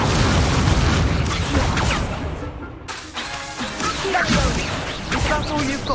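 The Incendio fire spell goes off in Hogwarts Legacy amid combat, loud crashing bursts and whooshing flame swells with impacts, one short gap, then more clashing effects.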